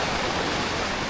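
A stream flows near the Krka Waterfall in Croatia, giving a steady, dense rushing hiss of moving water with no voices.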